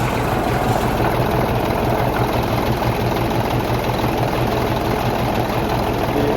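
A 2011 Hino FM 320P 6x4 tractor head diesel engine idles steadily with its cab tilted and oil cap off, giving a continuous low rumble with a faint high whine throughout and no talk.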